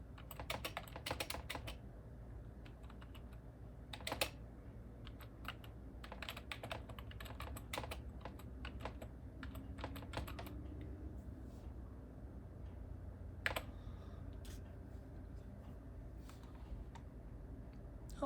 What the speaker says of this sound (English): Typing is going to be a real challenge